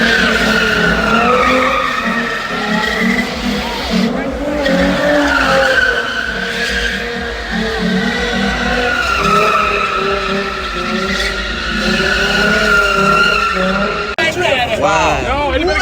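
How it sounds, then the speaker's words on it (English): Car tire screeching in a sustained, loud skid during a burnout at a street car meet, with a crowd shouting and talking over the continuous squeal until it cuts off near the end. "My guy really tore the tire off his whip"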